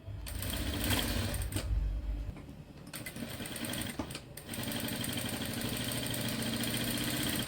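A sewing machine stitches the tucks of a blouse in a continuous, steady whir that hardly lets up, with one brief dip in pace partway through.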